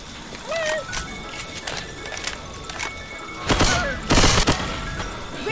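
Rapid bursts of gunfire from the video game Left 4 Dead 2 crackle amid busy game effects, with a loud volley near the end, mixed with player chatter.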